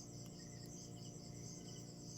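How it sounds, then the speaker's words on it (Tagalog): Crickets chirp in a dense, continuous high-pitched trill, steady and faint as if from some distance, with a low background hum and no talk. "So medyo may distansya po yung mga tinig ng crickets."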